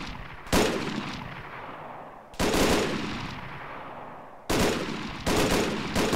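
Rifle fire from the R3F weapons addon in the video game Arma 3: three loud, close bursts of gunfire, each a quick string of sharp shots that decays into reverberant tails, with no talking over them.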